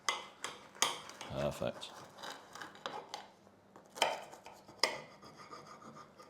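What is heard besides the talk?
homemade crispy pizza being cut into four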